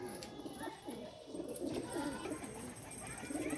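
Pigeons cooing in a low, soft rolling murmur that repeats steadily throughout, with faint background noise and a high hiss overhead.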